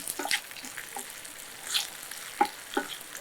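Faint, soft sizzling of potatoes frying in a pan, with occasional light stirring scrapes and clicks; no voices.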